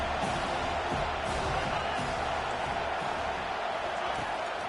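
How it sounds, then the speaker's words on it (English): A stadium crowd in a college football video game roars on third down as the defense holds, a dense, steady wall of cheering with faint commentary beneath it. "Decibels rising as the crowd gets behind this defense on third down."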